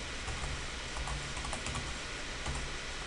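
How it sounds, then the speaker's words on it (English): Quick, light clicking of keys on a computer keyboard while a file name is typed, a steady soft patter of keystrokes close by with no talking. "So the first one, you're going to type a file name,"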